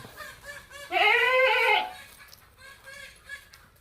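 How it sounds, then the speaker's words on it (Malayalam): A single loud, close bleat from a light golden Malabari goat lasts about a second, followed by quieter bleating from its kids and faint background noise. "രണ്ടാം പ്രസവത്തിൽ മലബാറി ആട്"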